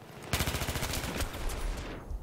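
An MTAR-21 rifle in Battlefield 3 fires a loud, close burst of rapid, evenly spaced shots that blur into a continuous roar, then tails off into a fading echo.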